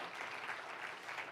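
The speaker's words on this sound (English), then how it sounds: "Do you want to cheer a bit more for that opening song?" A congregation at a Santa Rosa spiritual center applauds steadily after the opening song, a dense, even wash of clapping that fills the whole moment with no voices on top.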